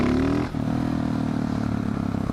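A motorcycle engine drones loudly nearby, dipping briefly as it shifts, then settling into a steady throbbing rumble.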